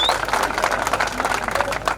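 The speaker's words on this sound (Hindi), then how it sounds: "हमारे बड़े भाई मधु वर्मा जी, जरा उनके लिए जोरदार तालियां बजाओ।" A crowd at a political gathering in Rau, Madhya Pradesh, claps for Madhu Verma: loud, close, densely packed clapping that carries on steadily for the whole stretch.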